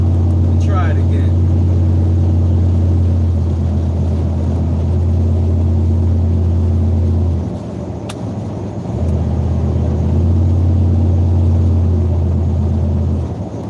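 An old truck engine idles with a loud, steady low rumble and drone, dipping briefly midway before resuming, while a person talks over it.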